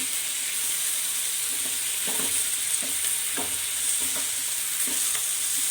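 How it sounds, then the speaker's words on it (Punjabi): Onions fried in ghee sizzle steadily in a pan as capsicum and tomato go in, with a constant hiss of hot fat broken by soft scraping stir strokes, close and fairly loud. "ਪਿਆਜ਼ ਆਪਾਂ ਚੰਗੀ ਤਰ੍ਹਾਂ ਭੁੰਨ ਲਿਆ ਹੁਣ ਆਪਾਂ ਇਹਦੇ ਵਿੱਚ ਸ਼ਿਮਲਾ ਮਿਰਚ ਤੇ ਟਮਾਟਰ ਪਾ ਦਵਾਂਗੇ"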